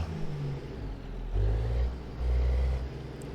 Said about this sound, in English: We can listen to this Zeemods engine.